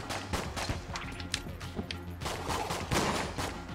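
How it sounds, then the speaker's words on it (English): Rapid shots and impacts in the twin-stick shooter Enter the Gungeon, a dense flurry of quick bursts and crashes at moderate loudness throughout, with no voices audible. "just keep shooting into the wall"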